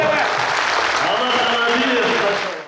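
Applause from an audience at an annual university ceremony honouring top athletes, greeting a strongman from Kiziliurt bending nails and rebar. The clapping is steady and dense, with voices over it.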